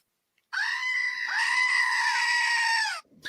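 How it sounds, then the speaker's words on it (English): A goat-scream sound effect blares out loud and close, one long, strained, wavering cry lasting several seconds before cutting off abruptly. "Goat scream, please."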